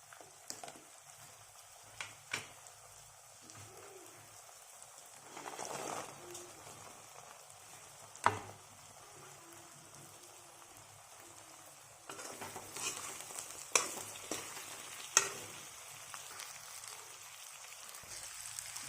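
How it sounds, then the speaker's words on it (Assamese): Paneer frying in a pan, a soft continuous crackling sizzle with scattered clicks and scrapes of stirring, louder in the final stretch, faint overall with no voices. "ফ্ৰাই হৈছে ধুনীয়াকৈ।"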